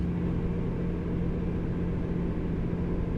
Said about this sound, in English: It has a nice engine, as you can hear.